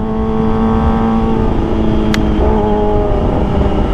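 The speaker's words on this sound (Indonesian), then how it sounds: "Yang penting keluar suara knalpotnya guys secara maksimal ya." Kawasaki ZX25R motorcycle exhaust revving hard and steadily close by, a loud sustained engine drone with a brief sharp spike midway, no talk over it.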